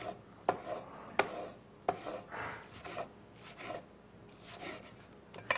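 A pineapple is cut into thin slices with a pineapple slicer: repeated rasping, scraping strokes with sharp crunchy snaps at irregular intervals, close and clear with no talking.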